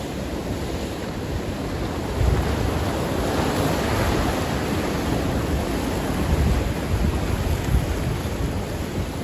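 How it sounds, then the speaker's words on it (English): Big ocean swells break along the shore while fishing, a dense continuous roar of surf with heavy wind buffeting the microphone and slight surges as waves crash, no voices. "look at the size of that wave there, guys. Absolute buster coming in. Big swells."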